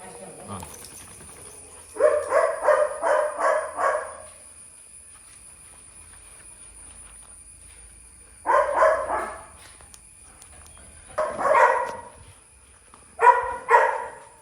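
A dog barks in repeated bursts during an obedience training session: a rapid run of five or six barks, then pauses and several shorter clusters, fairly close and loud against a quiet background.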